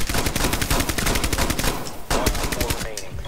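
Loud, rapid automatic gunfire from Rainbow Six Siege, long sustained bursts with a brief break near the middle, close and dominant with no talking over it.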